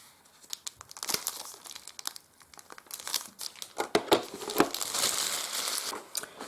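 Cardboard packaging for a Huion Kamvas Pro 12 graphics tablet is opened up close with a run of crinkling, crackling and tearing sounds, with sharp bursts that grow busier and louder toward the end. No one speaks.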